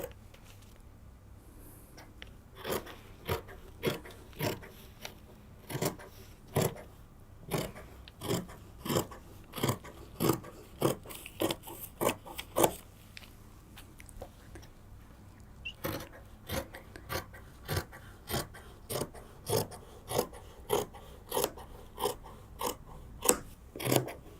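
Scissors cut through blue and pink sweatshirt fabric with steady, regularly spaced crisp snips, close and fairly quiet, continuing in a long series with a short pause midway.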